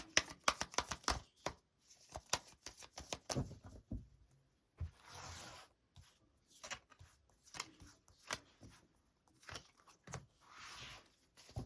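Tarot cards shuffled and drawn by hand, rapid crisp riffling and snapping bursts alternating with softer slides and taps of cards laid down, close and clear, no talking.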